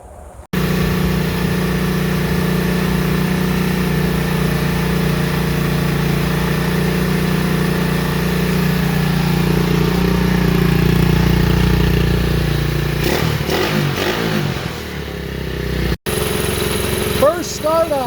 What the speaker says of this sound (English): First startup, it's alive.